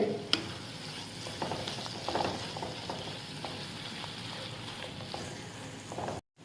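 Cauliflower curry sizzles steadily in a pan as coriander is stirred in, with soft scraping of the stirring over the constant frying hiss, close and moderately loud.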